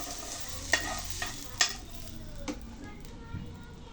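Boiled eggs for egg biryani are lightly fried in a pan, with a quiet, soft sizzle under several sharp clicks and scrapes of a utensil stirring against the pan.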